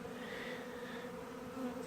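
A captured honeybee swarm in a cardboard box, giving a steady, low droning buzz that holds evenly throughout at a fairly faint level.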